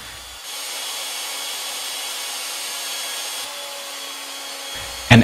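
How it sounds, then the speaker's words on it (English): A Legacy Ornamental Mill cuts wooden stock round as the spindle shaft is turned by hand, giving a steady, even rasping whir of cutting with a sharp knock at the very end. "Turning the spindle shaft with a handle to mill the stock round,"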